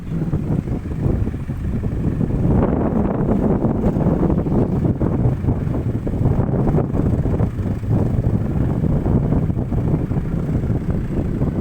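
Strong wind gusts buffet a sugarcane field, rushing steadily and loudly with rough microphone buffeting throughout and no voices.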